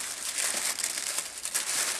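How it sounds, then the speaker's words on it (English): Black tissue paper crinkles and rustles steadily at close range as a gift box is unpacked, a continuous crisp crackle with no talk over it. "Lots of black tissue paper."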